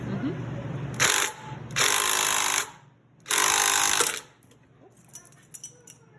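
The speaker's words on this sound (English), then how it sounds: "I'm going to just use the impactor to tighten the pulley puller" Impact wrench tightening a pulley puller on a 1947 Farmall A tractor crankshaft pulley, three loud close bursts of rapid hammering, each about a second long, with a steady low idle between them and faint clicks after.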